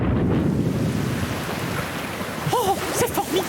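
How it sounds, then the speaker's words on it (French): A thunderstorm with rain in a French children's animation, a rushing wash of rain and low rumbling noise, joined near the end by a few short rising-and-falling tonal calls over the storm. "Un gros orage arrive sur nous!"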